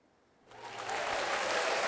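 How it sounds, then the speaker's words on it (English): Applause from a podcast audience swells in after a quiet start, a dense round of clapping that holds steady and fairly loud to the end. "Give yourself a round of applause because you did."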